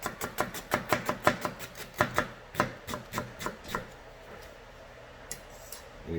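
A kitchen knife chops an onion for an omelet, producing a quick, rhythmic series of sharp taps on a cutting board close by. The taps slow and fade to a few scattered knocks near the end.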